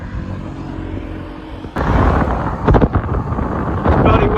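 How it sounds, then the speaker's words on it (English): Strong wind buffets the microphone while someone cycles. A steady low rumble jumps louder partway through and then continues in gusty surges. "It's bloody windy again as well."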